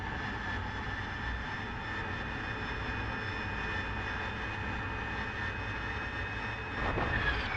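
AV-8B Harrier II jet in the DCS flight simulator, a steady loud engine whine and roar while landing on a runway, with a slight surge near the end and no talk.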